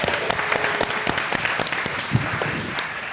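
An audience at an ecommerce agency summit gives a round of applause, with individual claps standing out crisply over a steady layer of clapping from a room full of people.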